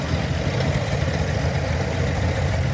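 A rare Ford 8N high crop tractor with a single front wheel runs in a steam and gas show parade. Its engine gives off a steady, low, rumbling drone that stays continuous and fairly even at a moderate distance.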